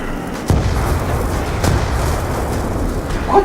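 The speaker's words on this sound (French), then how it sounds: "Pourquoi tout explose?" Explosions in a zombie-mode video game, a dense continuous rumble of blasts with a couple of sharper booms, loud and close, with no talk over it.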